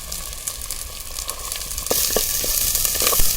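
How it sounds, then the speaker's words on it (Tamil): Chopped onions frying in sesame oil in a pan for Chettinad mutton kulambu, a steady close sizzle that grows louder midway, with faint stirring, no voice. "இப்போ பாருங்கள், வெங்காயம் நல்லா வணங்கி வருது"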